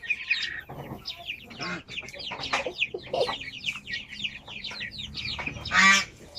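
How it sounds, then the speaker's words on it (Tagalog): Chickens cluck and squawk in a busy, irregular series of calls, with one louder squawk near the end, set against a faint background. "Manok."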